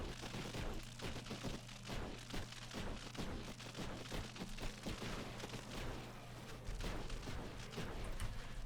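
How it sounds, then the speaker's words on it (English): Artillery cannons fire in the video game Buggos II, a steady, dense barrage of booming shots layered with rapid gunfire that continues without a break, loud and close throughout. "These two artillery cannons here are very useful."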